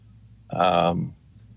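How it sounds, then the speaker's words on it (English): A single short cat meow, loud and close, rising and fading within about half a second against near-quiet background. "Who's got the cat?"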